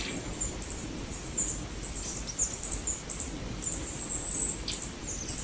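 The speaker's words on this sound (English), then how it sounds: "Golden crowned kinglets." Golden-crowned kinglets singing on a mountain hike, giving very high, thin, sweet chirps in short bursts at moderate distance over a soft, steady outdoor background.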